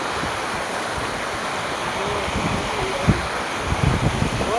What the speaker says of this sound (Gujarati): આટલી બધી નદી આવી છે ફૂલે ફૂલ